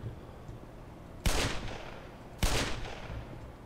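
Two loud gunshots in the video game Black Mesa, each a sharp crack with a ringing tail, about a second apart after a quiet stretch.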